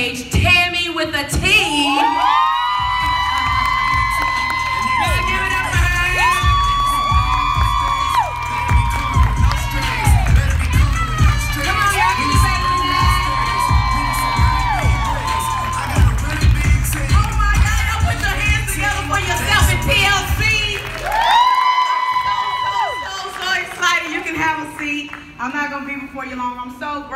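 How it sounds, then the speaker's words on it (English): A big event audience cheers, whoops and shouts loudly and steadily for about twenty seconds as a woman is welcomed onto a stage, the crowd noise dipping briefly before another burst near the end. "put your hands together"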